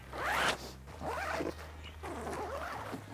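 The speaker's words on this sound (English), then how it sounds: "I am just gonna drop the windows back real quick, zip them down." Zippers on pop-up tent windows being pulled down, three long rasping zips in a row, close and loud, with a low steady hum underneath.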